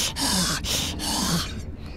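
Heavy, rasping breaths from a character in the Little Nightmares video game, three long loud gasping inhales and exhales in a row that fade at the end, no talk.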